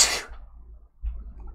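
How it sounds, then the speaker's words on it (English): A single sharp sneeze bursts out at the start, close and loud, followed by quiet breathing and faint rustling. "I have a sneeze"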